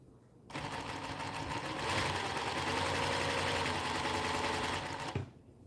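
An industrial sewing machine runs fast and steady for about five seconds, giving a loud, dense mechanical whir with a rapid rhythmic chatter, then cuts off sharply.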